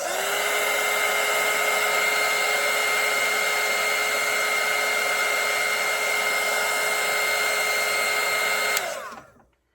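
A hair dryer blowing on acrylic paint on a painted Santa hat, a loud, steady high-pitched whine and rush of air close by, running continuously before switching off and winding down at the end.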